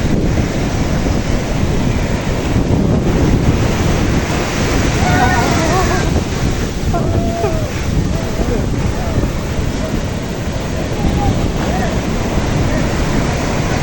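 Surf roars and washes continuously onto Sandspit Beach in Karachi, Pakistan, with heavy wind buffeting the microphone, while faint voices and shouts drift in from a distance.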